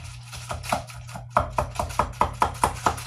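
A mint julep with muddled mint and sugar being stirred, a spoon clinking against the glass in quick, evenly spaced taps, close and fairly quiet.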